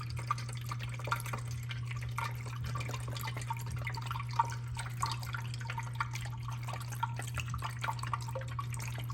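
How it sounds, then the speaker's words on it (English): Washer fluid poured into the reservoir of a Tesla Model 3/Y, a soft continuous trickle and splash of liquid with occasional drips over a steady low hum, close and fairly quiet. "we're just gonna pour that right in there."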